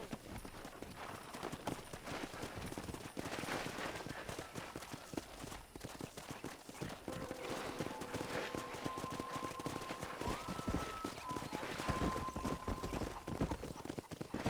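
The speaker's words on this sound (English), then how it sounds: "That ranch hand said there's a pack of wild horses nearby." Wild horses gallop in the Red Dead Redemption video game, a dense, steady drumming of hooves with occasional whinnies, loud and continuous throughout.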